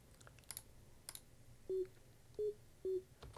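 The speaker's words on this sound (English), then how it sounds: "Very simple sine wave there." Three short, dry sine-wave synth notes from a simple melody in Ableton Live, each a pure steady tone, spaced evenly and played alone after a few quiet clicks.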